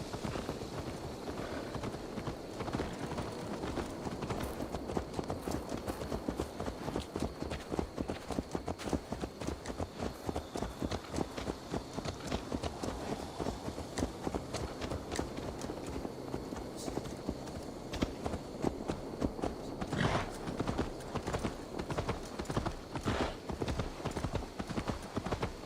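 Horse hooves clip-clop in a steady, rapid rhythm across Assassin's Creed Valhalla, close and continuous for the whole stretch. Game dialogue sits faintly underneath.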